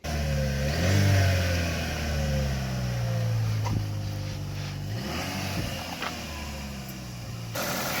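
A high-mileage Chevy Cruze with a 1.4-liter Ecotec engine runs steadily nearby, its hum rising and falling slightly as it revs, with no knocking.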